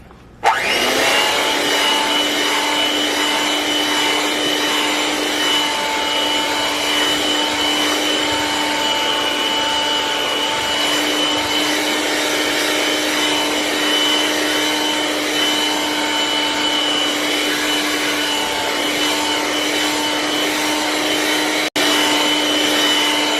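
An electric mixer beats New York cheesecake batter with vanilla extract, giving a steady, loud motor whine that holds unbroken for over twenty seconds before a brief dropout near the end, with no talking.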